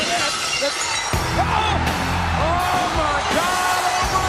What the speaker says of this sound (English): Usually the sound of glass breaking can cause a person to be frightened or surprised